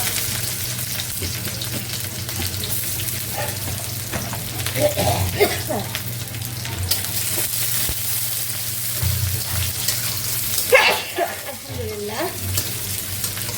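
Dried red chilies, onion and garlic sizzle loudly in hot oil, a close, steady frying hiss with occasional stirring scrapes and brief bursts of sputtering.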